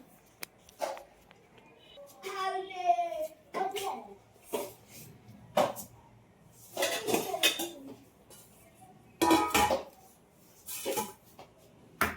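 Intermittent clinks and clatters of dishes and utensils being handled and set down, with scattered bursts of activity and a voice heard briefly.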